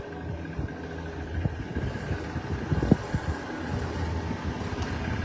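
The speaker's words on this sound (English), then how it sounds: "Sorry, I know it's a little bit breezy over here. Hopefully that's not messing up the audio too much." Steady wind buffets an outdoor microphone at Disney's Riviera Resort, a continuous low rumble that fills the clip with small gusts and no speech.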